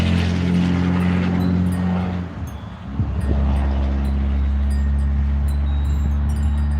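A car drives by outdoors, its steady low engine rumble and road drone filling the scene, briefly easing off midway before swelling back up, with light wind noise and no talking.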